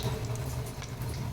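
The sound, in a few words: mustard seeds sizzling in oil for tempering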